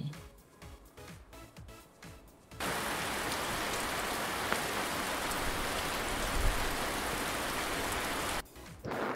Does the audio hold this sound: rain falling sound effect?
yes